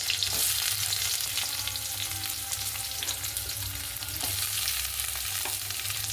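Garlic, onion, chili and potato frying in hot oil in a pan, a steady close sizzle with occasional scraping stirs and no talking.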